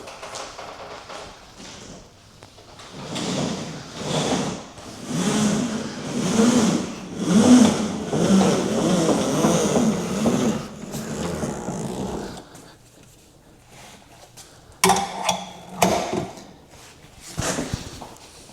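A Giraffe Tools retractable vacuum hose reel winds its hose back in with a whirring, rhythmically pulsing motorized rumble for several seconds, then settles into quieter clicks and knocks.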